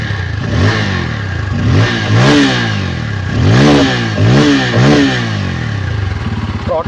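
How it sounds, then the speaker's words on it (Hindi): A 2025 Bajaj Pulsar N250 motorcycle is revved repeatedly at close range, with about six sharp throttle blips rising and falling over a steady idling exhaust note. "so let's start this beast and fire the engine"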